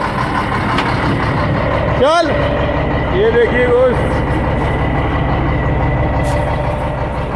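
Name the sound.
Shacman truck in gear, differential noise check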